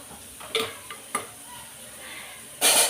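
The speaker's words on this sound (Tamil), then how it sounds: "கீரையை கொஞ்சம் அப்பப்போ இன்னும் பெரட்டி விட்டுட்டுருக்கணும்" Spinach greens are stirred and sautéed in a pan, with a soft sizzle and a few scraping knocks of a spoon against the pan, then a louder hiss rising at the end.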